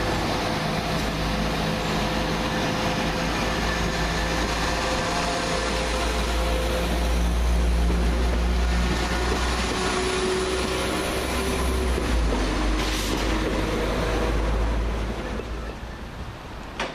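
A Class 172 diesel multiple unit pulls away from a station toward Kidderminster, a steady low engine drone and rail rumble that holds close and loud throughout, swelling slightly midway before easing off at the end.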